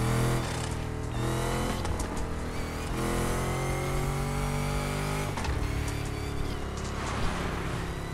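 A supercharged Daytona Charger engine in The Crew Motorfest whines and revs continuously, pitch rising and falling through gear shifts, loud and close.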